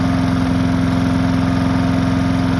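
A Gardenbaut wood chipper's engine idles steadily, a loud, close, even low drone with a rapid regular pulse and constant mechanical hum, running alone without talk.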